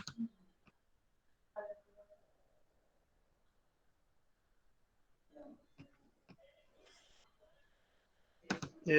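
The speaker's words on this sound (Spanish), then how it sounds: "Voy a dar clic en correr." A few soft, sparse computer mouse clicks sound in a quiet room while a PIR motion sensor simulation is run in Proteus, separated by long near-silent gaps.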